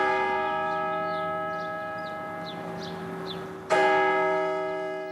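Sacred Heart Cathedral's church bell in Davenport rings with a long humming decay, then is struck again and booms out loud and resonant, with faint chirps drifting above.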